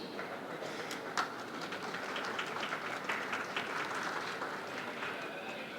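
A seated audience at a Chandigarh University AI event claps steadily to welcome a speaker, a dense even patter of many hands sustained throughout at moderate volume.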